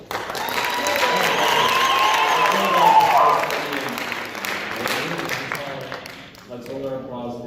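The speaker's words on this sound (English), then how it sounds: "Let's hold our applause to the end" Audience applause in a hall during a Senate candidate debate between three candidates, a broad sustained wash of clapping for several seconds that fades toward the end, with voices coming in near the close.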